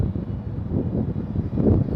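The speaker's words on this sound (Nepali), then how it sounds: "हावा चलिरहेछ।" Steady low rumbling wind buffeting the microphone at an outdoor night market in Bahrain, continuous for the whole stretch with no voices.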